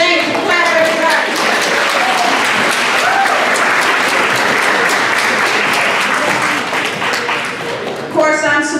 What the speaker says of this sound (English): Clap, everybody.